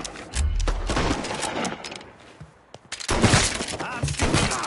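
Gunfire from a shootout in the Mafia III video game: bursts of shots in two loud clusters separated by a brief lull, heard close and full.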